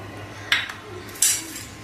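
A spoon stirring dry wheat flour with salt, baking powder and baking soda in a metal bowl for tawa pizza dough, two sharp clinks against the bowl over a low steady background.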